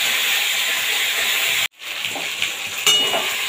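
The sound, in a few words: turmeric, chilli, cumin, ginger and tomato paste frying in pan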